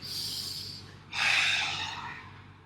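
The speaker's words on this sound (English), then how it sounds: "So breathe in, breathe in." A deep inhalation during a yoga breathing practice, a breathy rush of air that pauses briefly and then swells into a stronger, louder intake, close to the microphone with no talk.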